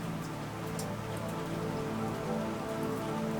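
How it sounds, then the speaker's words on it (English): Light misty drizzle falling steadily on a surface, a continuous even patter of fine drops, close and moderately loud, with no voices. "The next evening arrived with a pale, misty drizzle, the kind that softens every edge of the world."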